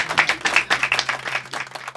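Loud applause for a singer from an audience, a burst of dense, rapid clapping that starts at once and carries on briefly without a pause.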